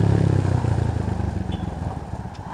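A motorcycle is ridden along, its engine putting out a close, steady rumble with rattling clatter that gradually eases in loudness.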